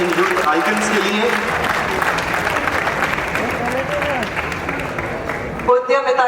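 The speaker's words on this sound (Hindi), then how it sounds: "आप सभी की तालियां बजती रहनी चाहिए इन यूथ आइकन्स के लिए।" An audience at a state-level youth festival award ceremony in Rajasthan applauds a winner with steady, dense crowd clapping that lasts several seconds, then breaks off as a voice speaks.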